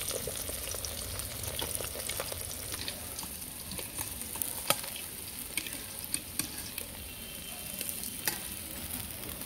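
Bata fish fry in oil in a wok with an even, crackling sizzle and scattered sharp pops and spatters, close but fairly soft, no voices.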